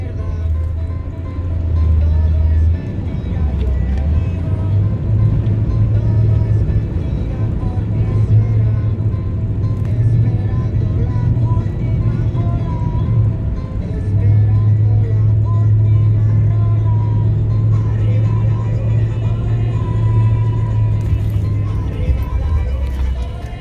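A car crossing water on a Baja California road trip, a loud steady low engine drone that rises and falls as it pushes through, continuous for the whole stretch without talk.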